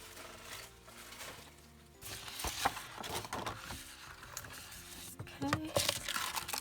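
Paper from a 12x12 craft paper pad rustles and crinkles close up, with scattered sharp crunches and slicing scrapes in an irregular rhythm, growing busier toward the end.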